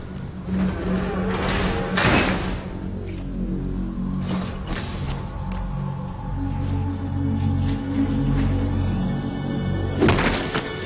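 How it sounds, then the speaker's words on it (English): A door opening in the video game Metal Gear Solid 2, a heavy mechanical slide and thunk with sharp clanks at the start and end, over a low game hum and tones. "Open the door for another cutscene."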